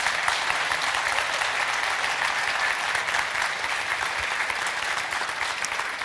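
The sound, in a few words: audience applause for a conference speaker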